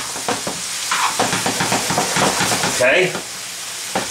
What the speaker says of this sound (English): Gotta saute these up